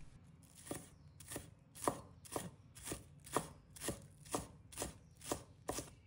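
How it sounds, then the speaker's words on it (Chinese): A knife chopping a bunch of scallion leaves on a board into small rings, about a dozen evenly spaced crisp chops close up, steady rhythm, with no talking. "再准备1把葱叶，把它切成葱花。"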